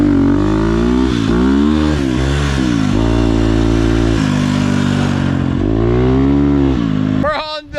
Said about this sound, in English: The first time riding this Husqvarna on the beach, on the sand.